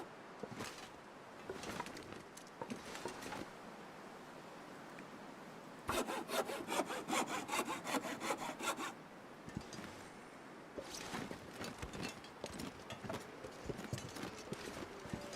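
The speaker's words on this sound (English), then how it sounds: "that half an hour or 45 minutes now spending using the hacksaw" A hacksaw cutting in the video game The Long Dark: rapid, rhythmic back-and-forth rasping strokes in bursts, close and clear, separated by quieter stretches of shuffling and rubbing.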